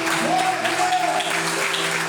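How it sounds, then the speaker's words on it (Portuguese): Continuous applause from a church congregation, thick and close, runs under sustained musical notes and a singing or shouting voice. "por um minuto aplauda bem forte o nome do Senhor"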